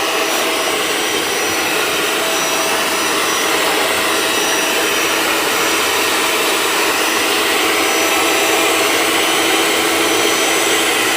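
Stand mixer running steadily, kneading a large batch of Korean meatball dough, a loud continuous motor whir with a broad high-pitched hum that holds unbroken, close up and with no talking.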